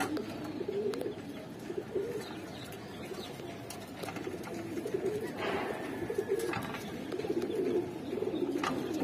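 Afsan Bagha pigeons coo in a low, continuous murmur that stays soft and steady throughout, with faint chirps and no speech.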